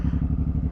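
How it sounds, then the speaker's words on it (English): A 2012 Suzuki Boulevard M109R cruiser rumbles along on an open road, its deep engine pulsing in a fast, steady, thumping beat, loud and close with a rough, clattery edge. "I'm out on the 2012 Suzuki Boulevard M109R"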